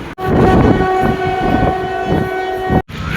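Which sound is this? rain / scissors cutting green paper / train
train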